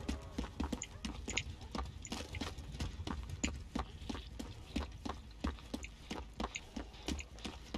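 Ornaments clink on hooks during Dead by Daylight play, making a regular, quiet series of sharp ticks and taps that closely resemble footsteps and repeat steadily at an even pace.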